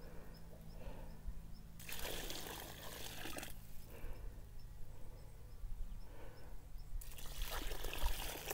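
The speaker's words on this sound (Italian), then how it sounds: "bisogna mettere un bel secchio d'acqua per ogni pianta." A bucket of water pours onto a newly planted grapevine trained in Guyot form, two splashing gushes with a trickling, dribbling pause between them, close by against a steady low background hum.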